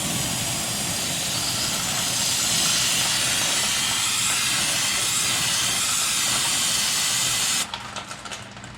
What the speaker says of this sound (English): grabbing my trusty brake cleaner